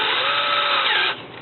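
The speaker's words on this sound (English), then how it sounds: "we'll go ahead and put that on our drill" A power drill spins at high speed to wind copper wire around a dowel, giving a steady, loud, close motor whine that drops in pitch as it winds down near the end.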